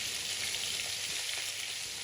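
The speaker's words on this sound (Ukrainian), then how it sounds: "На розігріту сковорідку викладаю крильця та смажу на максимальній потужності до золотистого кольору з обох сторін" Close, steady sizzling of chicken wings frying in a hot pan on maximum heat, a dense crackling hiss with no talking.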